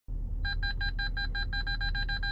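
Rear parking sensor of a Porsche Cayenne Turbo sounds a steady series of about a dozen evenly spaced electronic beeps over a low constant rumble, with no voices.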